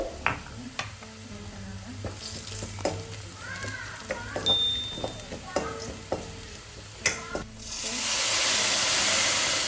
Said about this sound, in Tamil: மிளகுத்தூளும் எட் பண்ணிவிட்டு இதை கொஞ்சம் நாம் ரோஸ்ட் பண்ணி எடுக்க போகிறோம்.